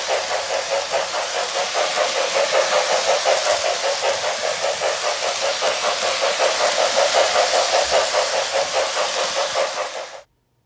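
A Williams ATSF 4-6-2 Pacific model locomotive runs forward with a close, steady motor drone and a fast rhythmic chuffing pulse that continues evenly before cutting off abruptly at the end.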